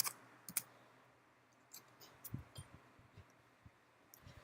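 Computer keyboard typing while coding HTML, a quiet scattered run of soft clicks and taps spread irregularly over several seconds at low level, with no voices.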